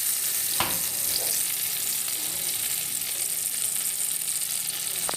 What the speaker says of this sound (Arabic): الزبدة تسيح معايا وتسخن قوي عشان ابدا ادي للحمه صدمه